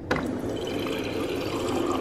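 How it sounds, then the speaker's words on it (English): Tap water streams steadily into a mug for about two seconds, a close, continuous splashing fill that begins abruptly and runs without pause, with no voices. "I'm gonna go ahead and fill this up with some water."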